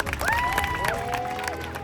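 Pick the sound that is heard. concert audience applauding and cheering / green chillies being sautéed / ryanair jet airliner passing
concert audience applauding and cheering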